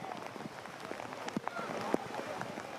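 Rain falls on an outdoor soccer pitch during a college men's match, a steady, faint hiss of drops with scattered soft taps and crowd-like bumps underneath.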